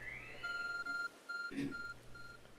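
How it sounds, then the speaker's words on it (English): A phone ringtone in the video game Pokémon Legends: Arceus gives a clear, repeating electronic beep pattern, evenly spaced short tones sounding alone at moderate volume. "There's a glowing, beeping object over there."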